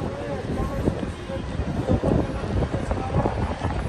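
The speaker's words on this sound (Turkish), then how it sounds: "Rüzgar esiyor ama sıcak bir rüzgar Mekke'de" Warm wind blows steadily across a microphone on a Mecca street, a continuous rough rumble and buffeting, with a person speaking under it.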